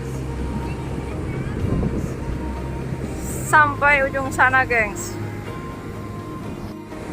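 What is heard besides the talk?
ocean waves crashing and strong wind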